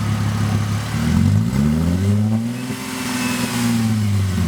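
A Mercedes-Benz engine revs up and falls back in a smooth rising-and-falling sweep, loud and close, with no talking over it.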